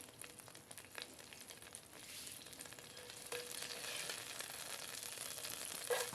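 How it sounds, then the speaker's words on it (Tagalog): Tenderised beef with onion and garlic sizzles steadily in a pan, a faint, continuous frying hiss with occasional stirring scrapes that grows slightly louder midway. "gigisahin natin yung ating beef na pinalambot. Gigisahin lang natin sa sibuyas at bawang"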